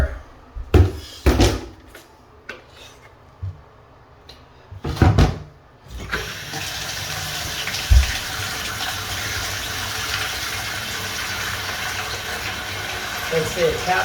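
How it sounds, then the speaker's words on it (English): A bathroom tap runs into a bucket, a steady rushing fill that starts after several knocks and clunks and continues under occasional talk. "Get some more water."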